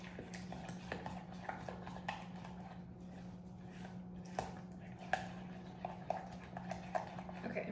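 Sauce ingredients including garlic powder are stirred together in a bowl for a key lime chicken salad, giving faint, steady utensil clinks and scrapes that repeat quietly against a low background hum.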